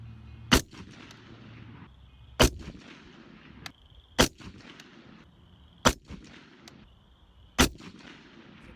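Five rifle shots fired at a 100-yard target with an Aimpoint red-dot sight, loud sharp cracks spaced about two seconds apart, each followed by a brief echo under faint outdoor background noise.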